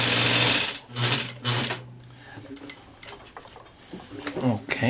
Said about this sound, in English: we stitch back to the same stitches that they were on